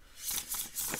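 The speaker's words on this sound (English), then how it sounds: "this is one of those decks you just need to flip it and shuffle the opposite way" A deck of oracle cards being shuffled by hand, several quick close riffling bursts in a rhythmic sequence, quiet and with no talk.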